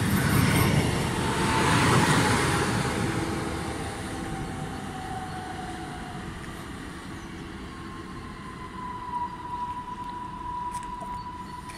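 EN63H010, an electric multiple unit, runs through a station in Pomerania with a loud, sustained rail rumble that peaks early and then eases into a steadier roar, with a faint whine drifting across it.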